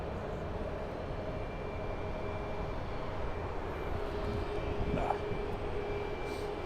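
A United Boeing 737 MAX 8 airliner at Phoenix Sky Harbor runway 25 gives a steady, broad engine roar that holds level throughout, heard from some distance without talk.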